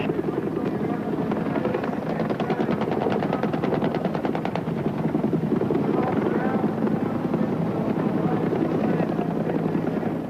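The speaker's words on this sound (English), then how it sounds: "Iroquois flutter in from nowhere, complete with SAS assault teams." Iroquois helicopters flying in for a mock attack at the 1992 Air Expo at Auckland International Airport, rotor blades thudding in a loud, rapid continuous flutter close by, with a narrator talking over the roar.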